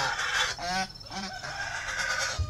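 Guard geese at a rural home in Ba Vì, Vietnam, honk loudly and close by in a few brassy calls that overlap into a noisy farmyard clamor.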